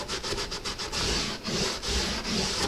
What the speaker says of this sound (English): just go back with a damp rag of mineral spirits